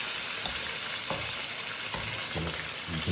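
Pieces of food brown in a crowded paella pan with a constant dense sizzle, punctuated by a few soft scrapes and stirs as they are turned.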